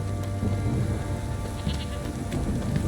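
Steady rain patters and hisses continuously, a dense wash of drops with no voices.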